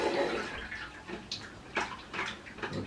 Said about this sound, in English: now you can clean your face